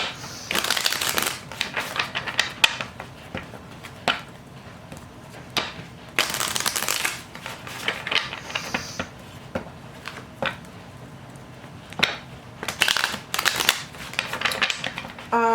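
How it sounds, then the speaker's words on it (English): Tarot cards being shuffled by hand, coming as repeated bursts of riffling and crisp papery flutters that start and stop, close and fairly loud, with no talk over them. "let me shuffle these."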